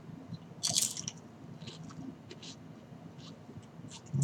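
Crunchy bites into a Migos Rap Snacks sour cream with ranch potato chip, close to the mic, with a sharp crunch followed by lighter chewing crackles over a low room background.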